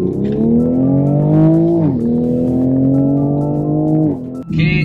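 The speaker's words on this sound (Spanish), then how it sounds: "Hoy en MotorTech vamos a probar el Toyota Supra" Toyota Supra 3.0 Premium engine loud and close, holding a steady note, dipping briefly as it shifts near the two-second mark, then climbing again before easing off at the end.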